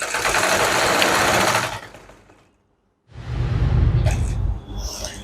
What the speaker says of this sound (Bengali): মোটরটা একদম পারফেক্ট আছে, ইভেন কোনো ধরনের স্কিপ করতেছে না